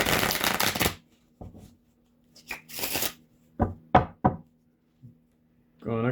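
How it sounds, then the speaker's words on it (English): A deck of playing cards shuffled outdoors in gusty wind: a long riffle burst, then several short, close riffles and knocks separated by quiet gaps. "I'm going to shuffle them."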